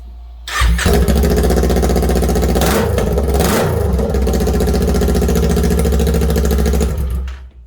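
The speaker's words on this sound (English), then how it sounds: "for those of you that are wondering what it sounds like with open pipe like that, I'll start it." A Kawasaki Z400 two-cylinder motorcycle with an open exhaust pipe and no muffler starts up and runs, loud and close, with a harsh, steady idle, a couple of sharp blips of the throttle, then cuts off.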